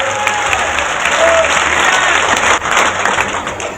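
Dense, loud applause from a crowd at a political rally in Panna, a sustained wash of many hands clapping together that dips briefly and then carries on.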